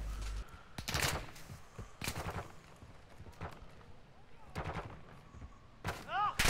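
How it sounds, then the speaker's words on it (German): Gunshots crack in separate bursts in Call of Duty: Warzone 2.0, several loud reports spaced across the scene with quieter battle noise and some talk between them. "Wo schießen die überall her?"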